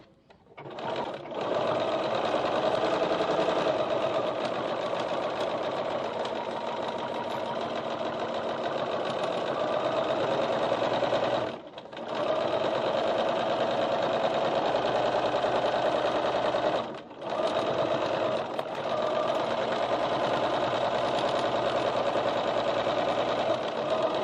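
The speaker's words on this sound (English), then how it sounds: "Now baste the other side." Sewing machine basting the side of a bowler bag with stiff interfacing inside, running in long continuous bursts of rapid, even stitching, stopping briefly twice before starting again, close and loud with no talking.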